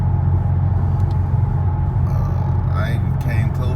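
Low, steady engine drone and road rumble inside a Dodge Scat Pack cruising on cruise control, loud and constant throughout with faint higher-pitched tones near the end.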